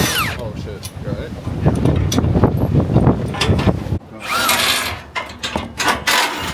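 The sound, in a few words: strong wind blowing into microphones outdoors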